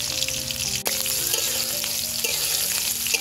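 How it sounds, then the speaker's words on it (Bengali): Chopped onion and green chillies frying in oil in a pan, a loud, dense crackling sizzle that holds steady throughout, with one brief clink partway through. "কাঁচামরিচ ভাজা নিছি"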